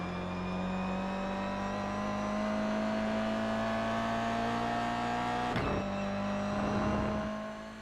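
Toyota GR86 race car in iRacing at Rudskogen Motorsenter, its engine droning and climbing steadily through a long pull, with a brief gearshift dip before it revs on. The engine is loud and close, with no talking.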